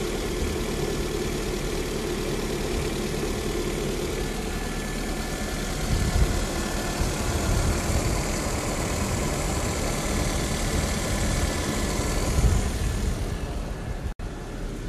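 A Honda CRX engine idles at about 1,000 RPM, a steady, quiet, low rumble that continues evenly and close by throughout.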